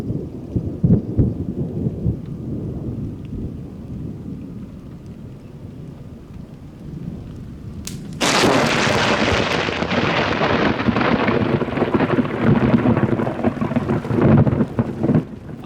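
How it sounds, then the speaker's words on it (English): Close thunder after lightning strikes a power pole beside a vehicle during a July 2020 tornado outbreak in Divernon: steady heavy rain, then a sharp crack and a loud, sustained rumbling roar over the downpour. "When you hear that click before the thunder, you're hearing the actual lightning bolt and the electrical discharge there."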